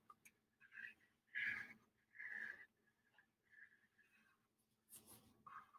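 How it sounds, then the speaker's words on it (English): Close, scratchy strokes of a marker tracing a drawing onto white paper, several separate squeaky passes with short pauses between them, quiet, with no talking. "So I'm going to trace what I drew using this new white piece of paper"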